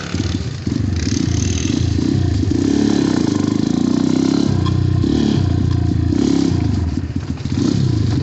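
An XMOTOS dirt bike engine on a leaf-covered trail ride, a close, loud, buzzing drone that rises and dips with throttle changes, running continuously.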